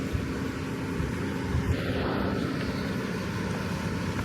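An airplane rolling on the ground at Abbotsford Airport right after touchdown, a steady low engine rumble and broad roar heard from inside, continuous with no talk.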